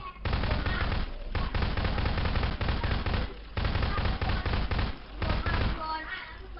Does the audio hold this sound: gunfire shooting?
yes